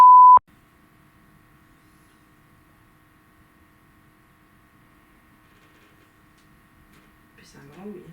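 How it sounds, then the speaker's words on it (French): A short, loud pure-tone censor beep blanks out a first name at the very start, then faint hum and near-silence follow before quiet speech returns at the end. "nous allons biper le prénom"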